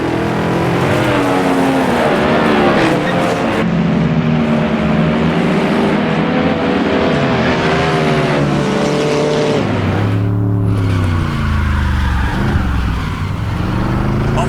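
A 1959 Corvette racing in Assetto Corsa, its V8 engine roaring loud and continuous through rising and falling revs as gears shift, with a brief tire squeal and other cars nearby.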